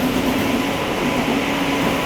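An Amrit Bharat Express train runs alongside platform 1 at Vijayawada railway station, a loud, steady rolling rumble with a faint sustained hum and no voices.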